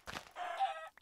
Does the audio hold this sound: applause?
no